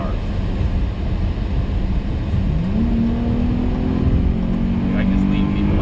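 Dodge Challenger with a 305-horsepower engine accelerating on a suburban road, a steady engine drone that climbs in pitch as it revs, heard from inside the car under continuous road noise.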